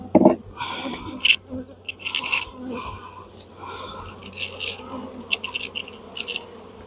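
Honeybees swarm and buzz around an opened backyard hive during a summer checkup, a dense, steady drone with individual bees swelling louder as they pass close, plus a few soft knocks near the start.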